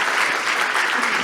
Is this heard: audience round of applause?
yes